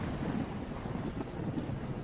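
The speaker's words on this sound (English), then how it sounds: "Rain lashed against the grimy storefront window" Rain lashes steadily against a grimy storefront window with a low rolling rumble of thunder beneath, a dense constant wash of storm noise and no voices.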